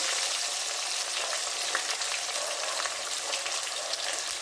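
Small onions dropped into well-heated oil fry with a steady, dense sizzle, a continuous crackling hiss that holds level throughout with no voices.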